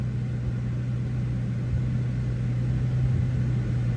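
A car engine holds a raised idle near 1700 RPM, a steady low hum and rumble running evenly throughout at moderate level with no speech.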